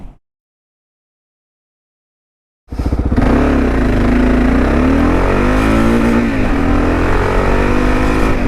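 A dual sport motorcycle with a cheap aftermarket exhaust after 3,000 miles kicks in after a few seconds of silence and revs hard in a 0 to 60 run, a loud, rising roar that holds steady to the end.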